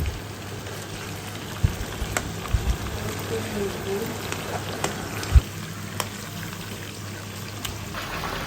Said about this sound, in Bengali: মুরগি ভাজা হচ্ছে রোস্টের জন্য।